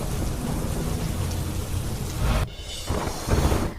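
Heavy rain pours in a dense, continuous hiss with deep rumbling thunder underneath, broken by an abrupt cut before the downpour returns just as strongly.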